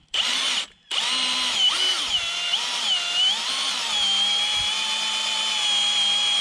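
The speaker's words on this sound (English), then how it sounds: "Alright guys, so I just started drilling here." A power drill bores a tap hole into a tree trunk, whining loudly and close with a brief pause early on, then a steady high-pitched drone with small shifts in speed.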